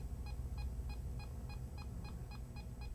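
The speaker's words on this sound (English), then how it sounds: "Make it beep faster." An electronic device emits a steady series of short, evenly spaced beeps, about ten in quick rhythm, faint against a low rumbling background.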